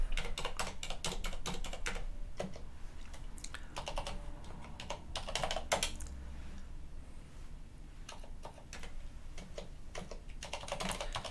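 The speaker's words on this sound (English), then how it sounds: "You have to type everything here." Steady typing on a computer keyboard during an Arch Linux install, with quick, close clicks in bursts and short pauses. A voice speaks briefly over the keys.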